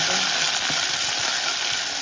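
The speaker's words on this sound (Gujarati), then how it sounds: "આદું ને મરચાં તળાવી દેવાના છે" Ginger and green chillies fry in hot oil in a pan, producing a bright, continuous sizzle heard up close and alone, without talk.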